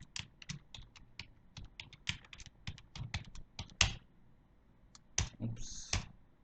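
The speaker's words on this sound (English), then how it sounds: "I believe I typed the wrong password." Rapid, uneven keystrokes on a computer keyboard as a password is entered, sharp clicks in bursts with short pauses, close and fairly quiet, with a louder cluster of keys near the end.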